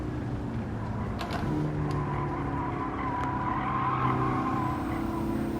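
A race car in Gran Turismo 7 brakes hard, its tires squealing in a long sustained screech over a steady engine drone, loud and close with no talking.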